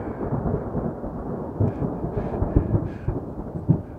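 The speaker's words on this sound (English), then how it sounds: "there's going to be another thunderstorm on us here" Thunder from a thunderstorm rolling over a forest while out foraging for wild mushrooms, a dense continuous low rumble with several heavier booming swells, fairly loud and steady, with no voices.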